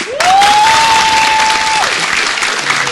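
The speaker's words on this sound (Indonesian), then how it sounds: "Tepuk tangan sekali lagi buat Deddy Corbuzier" A TV studio audience on a health talk show claps loudly and steadily, a dense burst of applause starting abruptly and holding for several seconds, with a brief sustained electronic tone sounding over the start.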